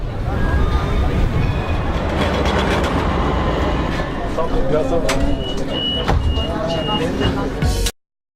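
Tram ride through Istanbul, with steady rumbling rail noise, rattles and occasional squeals and clicks filling the interior, voices talking over it throughout before the sound cuts off abruptly near the end.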